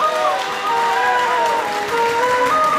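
An audience at a poetry recital claps in a dense, sustained wash of applause, with tonal voices rising over it throughout.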